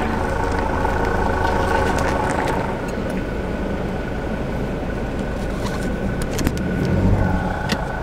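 Toyota JZX90 sedan drifting at a drift event, a steady loud engine drone with a continuous tyre-and-exhaust roar throughout, slightly easing midway then swelling again, no voices over it.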